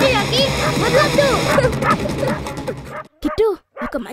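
Cartoon dogs in a village bark, yip and whimper in a busy, overlapping chorus, with scattered barks continuing after a brief pause amid other noise.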